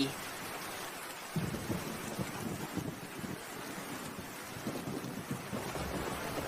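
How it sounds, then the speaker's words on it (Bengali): A thunderstorm: steady heavy rain hiss with low rolling rumbles of thunder that build in after a moment and keep surging. "যেমন মেঘের গর্জন তেমনই বিদ্যুৎ চমকানোর আওয়াজ"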